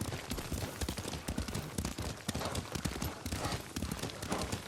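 Galloping hooves of a horse ridden in the video game Ghost of Tsushima, a fast, steady clip-clop rhythm repeating throughout, close and prominent, with no talking.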